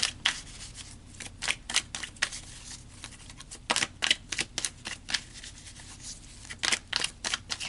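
A deck of tarot cards is shuffled and cards are pulled, making crisp papery riffles and flicks in irregular quick bursts, close and fairly quiet, with no voice.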